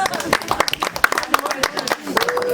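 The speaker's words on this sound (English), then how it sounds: "Let's give her a round of applause." Guests at a Nigerian diaspora baby shower clap in a brief, uneven round of applause, with sharp individual claps mixed with lively talking and voices throughout.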